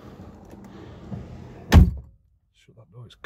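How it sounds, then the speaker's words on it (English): A Jaguar X-Type car door shuts with a single solid thunk after quiet cabin noise and faint talk, followed by near silence and a brief voice. "Shut that door, it's cold."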